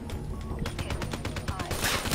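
Rapid bursts of gunfire in a Call of Duty match play as a dense run of sharp cracks, moderately loud, while a voice talks over them.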